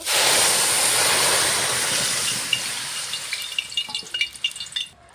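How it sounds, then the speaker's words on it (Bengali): Water poured into a pan of fried mung dal gives a loud, steady hissing sizzle that slowly fades over several seconds, ending in sputtering crackles and pops. "এখন আমি ডালে জল দিয়ে দেব"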